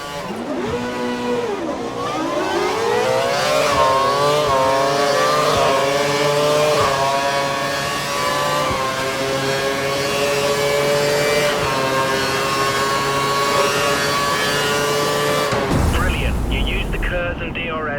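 F1 race car engines in the video game F1 2012, a loud continuous high-pitched whine rising and falling through gear shifts as one car passes another, ending abruptly with a brief burst of noise.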